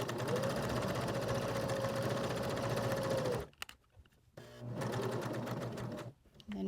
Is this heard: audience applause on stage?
no